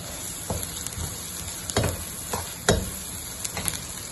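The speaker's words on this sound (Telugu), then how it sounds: "వేసుకొని ఇలా వేయించుకుందాం. కొంచెం ఇలా వేయించుకుందాం." Minced keema mixed with crushed mint, coriander and green chilli frying in a pan, a steady close sizzle broken by scattered scraping stirs, with no talking.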